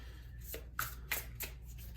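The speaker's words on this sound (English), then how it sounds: "we gotta shuffle and get the tarot cards" Tarot cards are shuffled by hand in a quiet room, giving several soft riffling bursts and light card snaps spaced about half a second apart.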